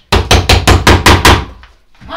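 A hammer strikes wood seven times in quick, even succession while a handmade stool is built, each blow loud and close, then the ringing fades into quiet.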